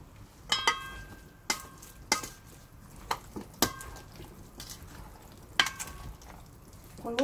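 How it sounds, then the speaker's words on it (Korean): Potato salad being mixed with mayonnaise in a bowl, with scattered wet clicks and scrapes of the utensil against the dish at an irregular pace, close and fairly quiet. "골고루 섞어줍니다."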